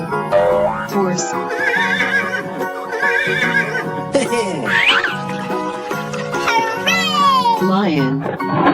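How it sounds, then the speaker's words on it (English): A cartoon-style horse whinny from a toy animal sound effect rings out amid busy, bright music and childlike voices, with several high, wavering neighs rising and falling across the clip. "Horse."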